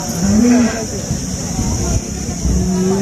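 Cows low in the heat at a cattle market in Sangola, a couple of drawn-out moos, one near the start and another near the end, over a constant background hum.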